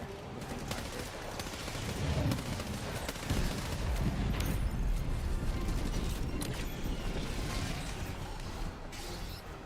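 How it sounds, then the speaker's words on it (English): Artillery and gunfire in a combat video game: dense bursts of shots and heavy booms roll on continuously and loudly, with no talking over them. "There's an artillery over there."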